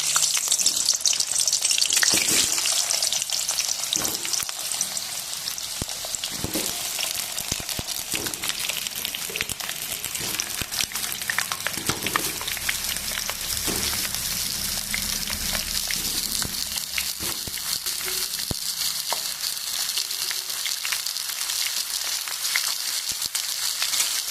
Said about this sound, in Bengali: সামান্য হলুদ দিয়ে আলুগুলোকে ভেজে নেব।